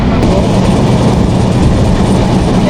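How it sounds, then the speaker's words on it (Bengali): Benapole Express train passing through Padma railway station, a loud steady rumble of the wagons on the rails from inside the carriage, continuous and close throughout. "আমাদের বেনাপুর এক্সপ্রেস এই মুহূর্তে পদ্মা রেলওয়ে স্টেশন ক্রস করতেছে"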